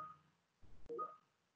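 A phone sounds a notification for a new assignment, short electronic beep tones, faint and brief in a quiet room with no talking.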